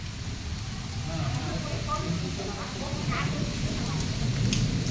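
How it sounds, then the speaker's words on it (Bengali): Steady, dense rain hisses and patters throughout, with a voice talking faintly beneath the downpour. "প্রচণ্ড বৃষ্টি আরম্ভ হলো"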